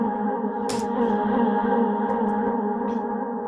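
A sustained synth sample in a melodic house track plays an octave down, drenched in reverb and ping-pong delay, forming a dense, steady tonal drone with soft echoing flickers above it.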